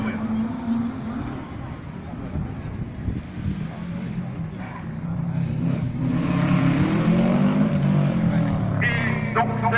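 An R3 class rally car launches at the Mirecourt rally, its engine revving and rising in pitch as it pulls away, heard under a commentator's voice and a murmuring crowd.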